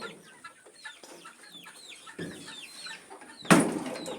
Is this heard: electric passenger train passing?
no